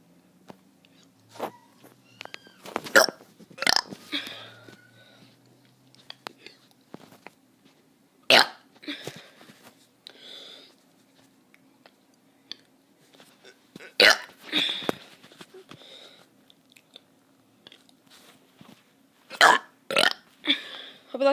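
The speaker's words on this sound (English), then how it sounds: "I'm going to be doing some burps." A kid burps repeatedly, short scattered belches and hiccup-like gulps with irregular gaps between them, close and loud against a quiet room with a faint steady hum.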